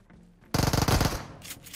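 Rapid burst of automatic gunfire in the battle royale game BGMI, close and loud, starting suddenly after a quiet lead-in and fading out after about half a second of repeated shots.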